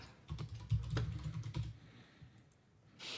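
Someone types on a computer keyboard, a quiet run of rapid clicks and keystrokes at close range that thins out toward the end, with no talk.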